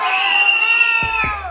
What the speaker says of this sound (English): Don't scream, please.